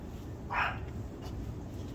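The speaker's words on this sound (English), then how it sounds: "sorry about the yappy neighbor dog" A neighbor's small dog gives a single short, yappy bark at a distance, brief and fairly faint over steady outdoor background hum.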